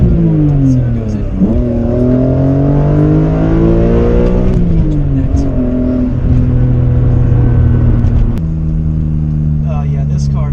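A BMW M3 E46 convertible engine revs loudly and steadily, its pitch climbing through repeated rises and drops as it accelerates through the gears, close and continuous.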